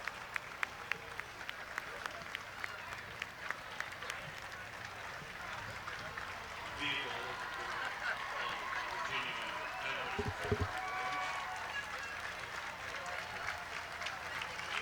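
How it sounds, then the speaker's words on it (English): Steady applause and clapping from a parade crowd outdoors, with crowd noise and some talk mixed in throughout. "Receiving quite a round of applause here."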